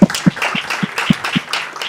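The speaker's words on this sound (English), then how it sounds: "Big applause for that." Applause from a conference audience after speakers finish a session on the Aceh peace process, with strong low thumps recurring roughly every quarter second under a broad wash of clapping.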